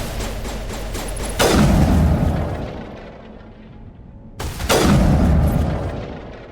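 Mass Effect gunfire lands as two heavy, booming shots about three seconds apart, each with a long rumbling decay, standing loud over a low background.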